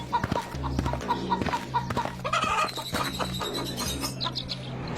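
Several chickens cluck and squawk close by, short repeated calls overlapping one another, with a few sharper cries among them.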